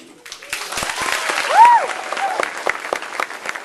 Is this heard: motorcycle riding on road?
no